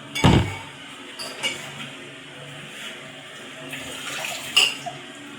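Tap water running briefly at a sink during washing up, a loud splashing burst at the start followed by quieter trickles and faint clinks of dishes, with no talking.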